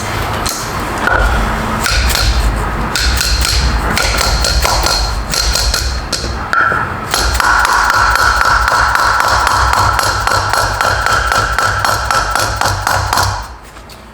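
Rapid, steady metallic hammer taps ring out nearly nonstop over a constant mechanical hum, with a brief pause midway, as a part of a KW H.A.S. suspension is hammered into place on a BMW G80 M3.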